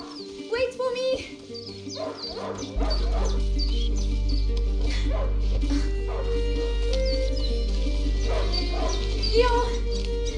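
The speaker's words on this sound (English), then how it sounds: "a hunting dog is not supposed to lose its hunter" A hunting dog in the video game A Plague Tale: Innocence yips and barks in short bursts over a steady low game soundtrack, with characters talking throughout.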